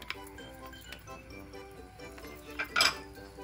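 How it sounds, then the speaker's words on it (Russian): A spoon stirs sauce with mint, red pepper and black pepper in a pan for a Turkish ezogelin soup, making soft scrapes and light metallic clinks. A louder clatter comes near the end. "И также хорошенечко перемешиваем."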